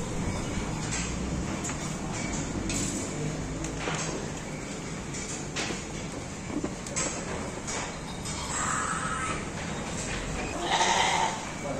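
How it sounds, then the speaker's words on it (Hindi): Goats bleat at a goat farm in Hyderabad, repeated overlapping calls from several animals near and far over a dense, busy pen background. "ये भी अली भाई का बकरा है"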